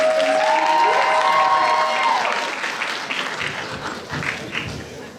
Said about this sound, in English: can we get another round of applause for our lovely contestants?